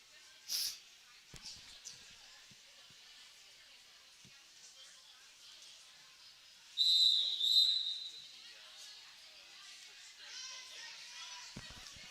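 A referee blows a long whistle ending a timeout at a junior roller derby bout, one sustained shrill blast in the middle of quiet arena ambience with scattered distant crowd noise.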